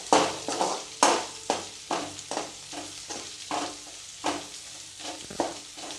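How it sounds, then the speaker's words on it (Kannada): Ginger-garlic paste fries in a pan for homemade gobi manchurian, a soft constant sizzle punctuated by about ten sharp scraping stirs at an uneven rhythm, close up and without talk. "ಬೆಳ್ಳುಳ್ಳಿ ಪೇಸ್ಟ್ ಚೆನ್ನಾಗಿ ಫ್ರೈ ಮಾಡ್ಕೋಬೇಕು ಇಲ್ಲಾಂದ್ರೆ ಹಸಿ ವಾಸನೆ ಬರ್ತೈತೆ ಅದು"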